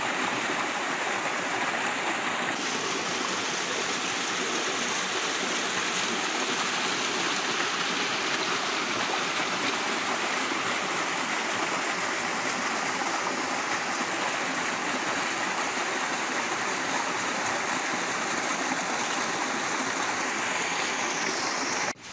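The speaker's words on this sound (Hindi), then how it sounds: "ये वाटरफॉल से नीचे जो पानी डिफरेंट जगहों पर जो है बड़ा अच्छा मज़ेदार सा ज़बरदस्त पानी है यहाँ पर" Rushing water below a waterfall at Pine Hills Makhniyal near Pir Sohawa, a steady loud broadband roar that stays constant and close throughout with no voices.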